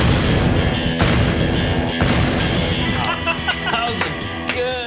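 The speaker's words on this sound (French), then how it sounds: "Couper un arbre en deux avec 6 bâtons de dynamite." Six sticks of dynamite set off against a tree, a series of heavy booming blasts about a second apart followed by crackling debris and rumble, loud and close.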